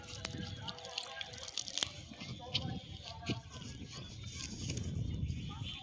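Hands are washed with water, giving faint trickling and irregular drips with small splashes and clinks close by, the flow swelling slightly toward the end.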